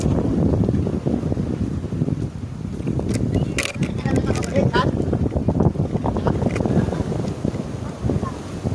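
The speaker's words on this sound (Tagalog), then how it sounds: "Malakas alon dyan." Strong sea waves wash around a small fishing boat at sea, a continuous loud rush of water and wind buffeting the microphone, with muffled voices now and then.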